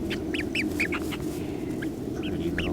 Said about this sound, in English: we did bring along the younger chickens